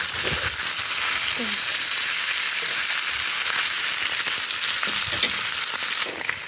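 Pork belly sears Chinese style in a hot pan, a steady broadband sizzle running the whole time with faint scattered crackles and no voices.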